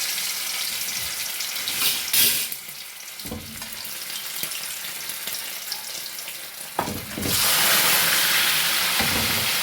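Chicken pieces for chicken pickle fry in very hot oil until brownish. A loud, close crackling sizzle rises and falls, then swells into a dense roar near the end.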